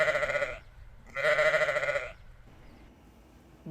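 Two clear, wavering sheep bleats come in quick succession at moderate volume, followed by near quiet.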